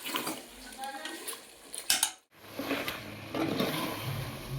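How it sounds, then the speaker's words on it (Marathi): A spoon scrapes and clatters against a pot as mutton curry is mixed, with close metallic knocks and a soft sizzle, broken by a brief pause midway before the stirring resumes. "आता हे आपल्याला चांगलं मिक्स करून घ्यायचं आहे."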